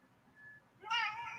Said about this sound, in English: Did you hear that was the saddest meow I've ever heard?